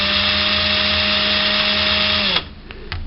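A loud, steady drill whine with a constant pitched hum as a nail chucked in the drill spins against a file, running continuously, then cutting off abruptly, followed by a couple of faint clicks.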